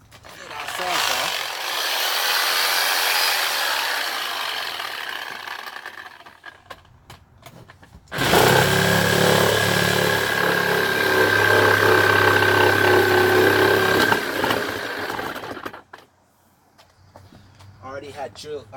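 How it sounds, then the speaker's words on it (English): A power saw cutting through old deck boards, a loud sustained buzzing cut running for several seconds, pausing, then a second long cut, close by, with a voice speaking. "Get our saw."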